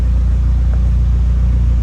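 A Nissan Silvia S15 Spec R sits idling with a steady low rumble, close and loud, with no voices over it.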